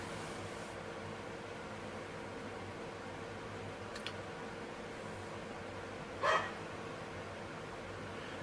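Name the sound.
dog barking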